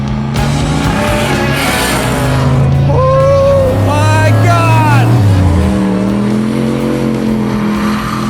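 A 700-horsepower turbocharged Ford Lightning pickup truck accelerates hard, its loud engine roar climbing steadily in pitch with a brief tire-squeal edge. A voice can be heard faintly underneath.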